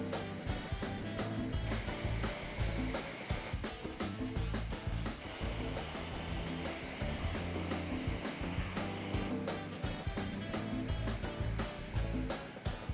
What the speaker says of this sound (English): take off the excess with a blow dryer and a chisel